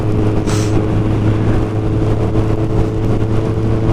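A motorcycle drones steadily on a ride, with a loud, constant low engine hum and road rumble.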